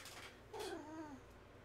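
A cat gives a single drawn-out meow, fairly close, with a faint hum of the room behind it.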